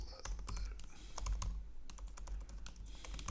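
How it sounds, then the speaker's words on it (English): Rapid, uneven keystrokes on a computer keyboard as code is typed, a steady stream of close, crisp clicks with no talking. "let's do some typing"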